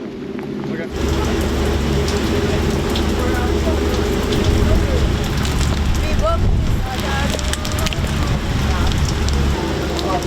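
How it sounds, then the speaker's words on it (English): Heavy rain pours down steadily at sea in a dense hiss, with wind buffeting the microphone and faint background clatter throughout. "It's really raining."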